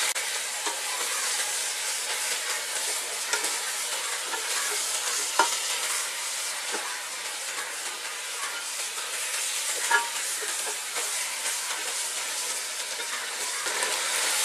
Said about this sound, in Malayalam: ഇത് നന്നായിട്ട് എല്ലായിടത്തും പരണ്ടു വരുന്ന രീതിയിൽ ഒന്ന് മിക്സ് ചെയ്തെടുക്കാം